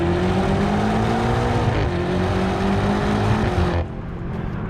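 A BMW M8 Gran Coupe drops a gear and its engine pulls hard with a loud, steady rising drone heard from inside, then the note cuts back sharply near the end.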